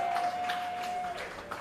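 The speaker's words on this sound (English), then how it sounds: "Give them a round of applause." A small wrestling crowd at an independent warehouse show applauds, a modest, steady patter of clapping that thins toward the end, with a faint tone sounding briefly.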